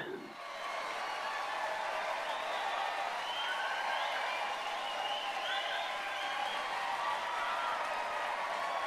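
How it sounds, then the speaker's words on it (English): A large crowd cheers in the visual novel game ChäoS;HEAd, a dense, sustained roar of many voices that swells in quickly and holds steady at moderate level throughout. "Without any warning, a huge cheer burst up, one that resembled the rumbling of the earth."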